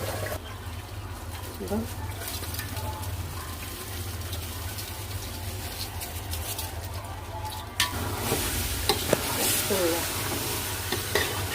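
Vegetable curry sizzles steadily in a pan while being stirred, a continuous frying hiss with occasional clinks of the spoon, growing slightly louder in the second half; a voice speaks faintly underneath.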